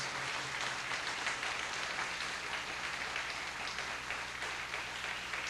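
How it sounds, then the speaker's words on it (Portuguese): A church congregation applauds during an evening worship service, steady dense clapping filling the space without a break, a broad wash of hands with a low hum underneath. "Então aplaudamos o Cordeiro"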